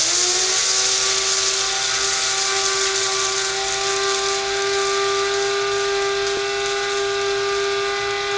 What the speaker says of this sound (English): Just put it in a coffee grinder or something to grind up your flaxseed.